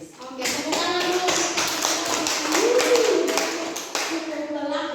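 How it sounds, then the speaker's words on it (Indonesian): A school audience of teachers claps after a presentation on positive discipline, a dense stretch of tapping hand claps with a few voices murmuring underneath. "Oke, tepuk tangan dulu."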